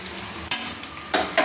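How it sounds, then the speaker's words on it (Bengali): Browned onions sizzling in a pan for mutton curry, a steady fry broken by a few scraping strokes of a spoon stirring them. "আপনাকে আমি নেড়ে দেখাচ্ছি, লাল লাল করে ভাজা হয়ে গেছে"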